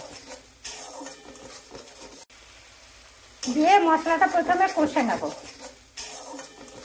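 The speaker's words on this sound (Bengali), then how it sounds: "দিয়ে মশলাটা প্রথমে কষে নেব" Masala paste with turmeric and salt sizzles in a pan for a chicken kofta curry while a spoon scrapes and stirs it in a busy burst of clatter, between quieter stretches of low frying.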